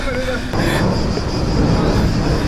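A low-flying airplane near an airport at Lake Bracciano, Italy, gives a broad, loud engine roar that swells suddenly and holds steady, with wind buffeting the microphone.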